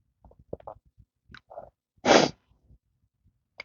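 A single sharp, loud sneeze bursts out midway, preceded by a few soft rustles and small mouth sounds.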